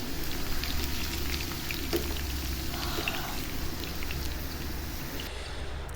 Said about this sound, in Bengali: এটা ভেজে নিতেছি আর কি।